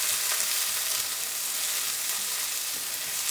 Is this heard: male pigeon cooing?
no